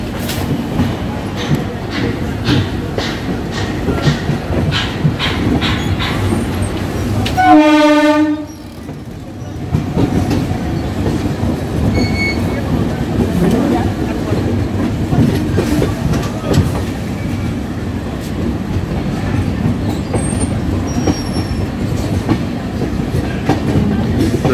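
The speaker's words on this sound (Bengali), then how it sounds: "রাজধানী ডাউন রাজধানী এখন দমদম ক্রস করছে।" Rajdhani Express from New Delhi to Sealdah passing Dum Dum, a loud steady rumble of wheels on rails with rhythmic clickety-clack and a blast of the horn early on, heard close, as from the train.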